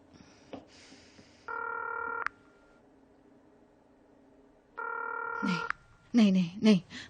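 Two bursts of steady multi-tone telephone dialing, each lasting under a second, ring out clearly in a quiet room, followed by a short spoken voice at the end.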